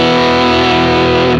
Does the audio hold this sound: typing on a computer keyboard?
no